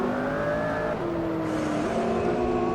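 Ferrari sports car running on a race track, its engine note droning steadily and shifting pitch as it drives past at moderate distance.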